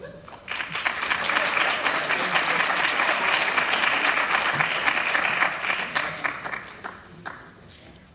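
Audience applause fills a celebration gathering honoring top students, a steady roar of many hands clapping that builds quickly, holds loudly, then tapers off near the end.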